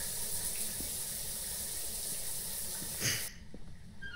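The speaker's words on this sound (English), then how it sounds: "Every shower in the world is on now." Showers run in the Phasmophobia video game as a continuous rushing water flow, like a tap gushing, with a small splash before it suddenly drops away to quiet near the end.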